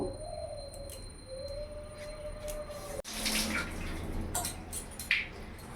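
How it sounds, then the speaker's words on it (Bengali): Grated potato is rinsed by hand in a bowl of water, with sloshing splashes and a sharp clatter midway. Faint bird calls sound in the background and no one speaks. "এবার 3-4 মিনিট করে মানে 3-4 বার করে আমি ভালো করে ধুয়ে নেব।"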